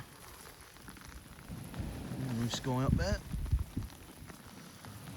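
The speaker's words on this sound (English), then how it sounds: "It's a shame about the rain" Steady rain falls during a summer bream-fishing session, a soft broadband hiss that runs throughout while a person speaks briefly over it.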